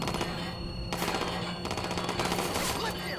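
Automatic gunfire in Watch Dogs 2, rapid continuous bursts of shots at close range, loud and steady throughout with short breaks between volleys.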